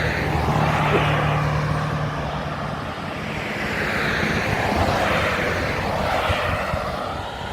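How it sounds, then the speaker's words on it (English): A car passes by on a street near a historic site, its engine and tire noise swelling and fading as a steady broadband rush that holds for several seconds with no talk over it. "Car was coming."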